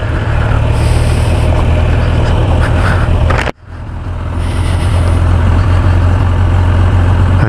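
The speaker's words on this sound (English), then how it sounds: "I got it in first gear right now, so I'm still getting used to this bike." A 2015 Kawasaki Ninja ZX10R ABS 1000cc motorcycle running in first gear, a loud low engine rumble mixed with wind roar, with a sudden brief drop in sound midway before the steady drone returns.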